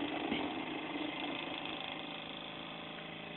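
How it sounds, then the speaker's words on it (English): A small DC motor hums steadily in a low-level electrical setup, a continuous even whir that eases slightly in loudness and has no talking. "I'm now going to run power to the little DC motor over here"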